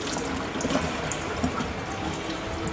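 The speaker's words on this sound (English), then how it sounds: "give it a little wash. Hot water." Hot water runs steadily from a kitchen tap, rinsing a metal pie pan in the sink, a continuous close splashing hiss throughout.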